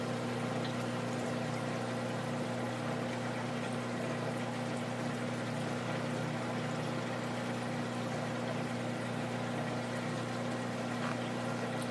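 An aquarium sump pump runs with a steady, even hum and a faint watery wash underneath. It is continuous and unchanging, with no talking.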